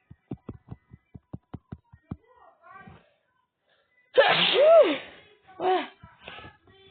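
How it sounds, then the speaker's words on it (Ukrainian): A single sharp sneeze bursts out after a stretch of quiet rhythmic tapping, loud and close, followed by a brief vocal gasp and some soft talk. "Вибачте, чихнув"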